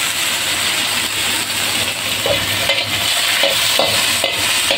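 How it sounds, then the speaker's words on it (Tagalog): Meat sautéing in a pan for green chili con carne, a steady close sizzle and fry with occasional stirring scrapes and clicks throughout, no talking. "Gisa muna natin yung karne."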